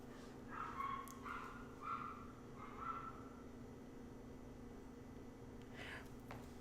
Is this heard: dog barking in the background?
yes